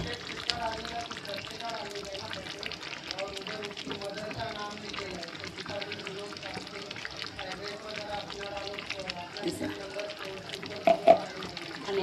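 Tomato puree and masala for chicken biryani get stirred in a pan, a soft sizzle with scraping, clinking spoon strokes running throughout while someone talks over it.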